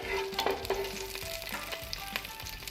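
Cinnamon, cloves, cardamom and bay leaf sizzle and crackle in hot ghee in a pan for quail biriyani, with close, steady frying and a few stirring clinks.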